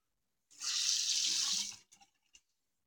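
Tap water runs for about a second and a half as a razor is rinsed between shaving strokes, a close, soft hiss followed by a few small drips and clicks.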